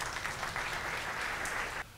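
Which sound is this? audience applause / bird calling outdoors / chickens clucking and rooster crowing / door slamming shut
audience applause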